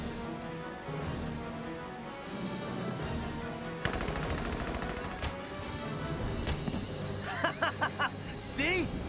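Rapid gunfire and machine-gun bursts from the Valkyria Chronicles 4 video game, sounding close and loud over a busy battle mix with game voices chattering and laughing throughout, with sharp shot clusters near the end.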